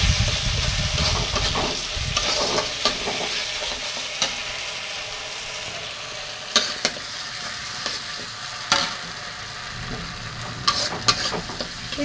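Masala with a ground paste of cashew, poppy seed and green chilli frying in oil, a dense continuous close sizzle with occasional scraping stirs across it.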